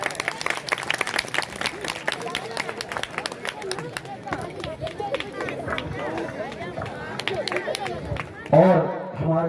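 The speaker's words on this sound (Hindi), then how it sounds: "जोरदार तालियां बजाइए।" Audience clapping at a village Raslila programme in Sirsa as a guest is welcomed with a ceremonial scarf, steady applause mixed with crowd chatter and a voice over a loudspeaker, swelling briefly near the end.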